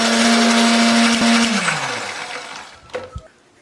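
A blender loudly whirs through candlenuts, garlic, shallots and turmeric with a little water, then winds down and stops, followed by a few hollow knocks against the jar.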